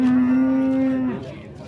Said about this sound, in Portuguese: Que vaca bacana aqui, nosso amigo Zé Vaqueiro.